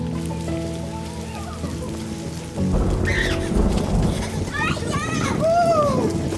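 Hail falling in a storm near Lake Garda in Italy, a loud dense clatter and hiss of stones striking surfaces, rising partway through, with people and children speaking over it.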